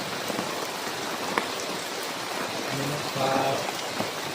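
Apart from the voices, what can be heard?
rain falling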